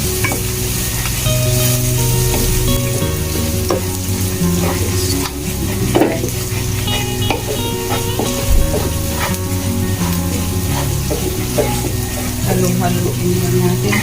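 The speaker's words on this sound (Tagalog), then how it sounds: "Fry para siya masarap. Magtyaga tayong mag-fry." Sliced onions sauté in a pan for a Filipino dish, with a loud, continuous close sizzle and frequent clicks and scrapes of stirring throughout.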